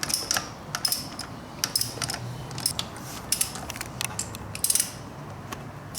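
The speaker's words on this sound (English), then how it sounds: "I'm just tightening the screws, I'm not torquing yet" Small metal nuts being run down onto cylinder studs of a Yamaha Banshee engine during a rebuild: irregular close clicks and ratcheting ticks, quick bursts spread across the moment, with no talking.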